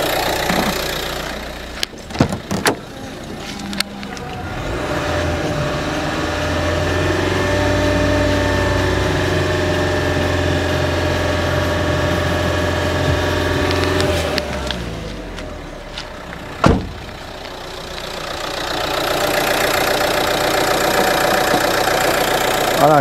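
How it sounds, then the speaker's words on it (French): A car engine runs during an alternator charging test with a battery tester. A few clicks sound at idle, then the revs climb and hold near 2500 rpm for about ten seconds before dropping back to idle. "augmentation de moteur à 2500 tours et le garder 5 secondes"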